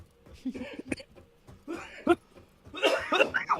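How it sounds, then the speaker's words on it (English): Several coughs and a throat-clearing burst out in short irregular clusters, close and fairly loud, mixed with brief laugh-like exhalations from a person with asthma during a gaming stream. "You don't have to apologizing for coughing."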